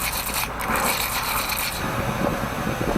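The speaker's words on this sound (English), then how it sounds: "So just grab a little wire brush or something like that." A small wire brush scrubs a car battery terminal, giving a continuous close rasping scrape that runs steadily throughout with no voices.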